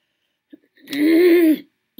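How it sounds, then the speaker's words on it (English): A single throat clearing, one short voiced rasp lasting under a second, close to the microphone during a relaxed crafting session, preceded by a faint click and followed by a brief sound at the end. "I don't know why I'm clearing my throat."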